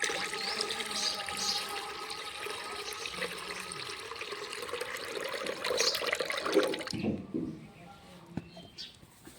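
Running water splashing as lentils and rice are washed in a vessel, a steady close wash of water that cuts off near the end, followed by a few faint handling knocks.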